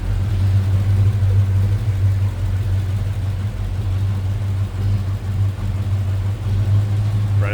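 A 1953 Ford F100 flathead V8 with a single carburetor and aluminum radiator idles smoothly, giving a steady, loud low rumble that holds through the whole stretch with no one talking.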